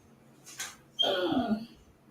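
A dog whimpers in a short high whine, then a longer descending whimper, both close but soft, heard with no one talking.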